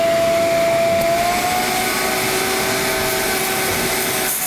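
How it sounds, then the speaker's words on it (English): A small shop vacuum runs steadily as a direct vacuum source, its motor droning loud and unbroken close by with a faint whine. "So I took the smallest shop vac, I mean, and I hooked up the hose. And now I have direct vacuum"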